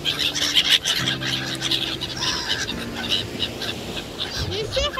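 Small seagulls call repeatedly on a beach in Sochi in January, their short cries rising over steady surf and background noise.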